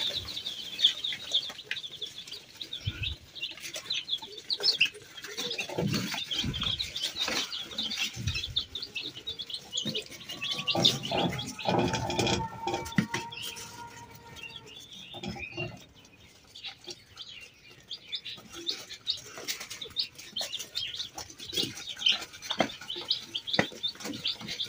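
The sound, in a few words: baby chicks chirping while drinking water in brooder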